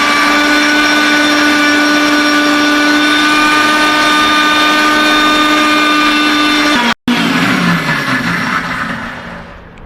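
An electric mixer grinder blends potato, green chilli and water into batter with a loud, steady motor whine that cuts off abruptly and then restarts briefly before winding down.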